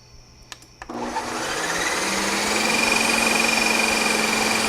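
A few faint clicks, then a Ninja Creami motor whirs up and grinds loudly and steadily, its pitch holding as it churns through hard frozen sorbet.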